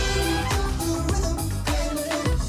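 Upbeat Fortnite emote song, re-recorded version, with a driving beat, punchy drum hits and a bright synth melody, played loud and continuous.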